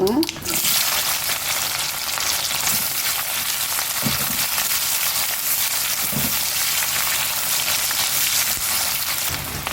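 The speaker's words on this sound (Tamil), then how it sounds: "கடுகு நல்லா பொரிஞ்சிருச்சு பாருங்க" Mustard seeds spluttering in hot oil with onion and green chili, a dense close crackling sizzle with a few soft stirring knocks, continuous and with no talk.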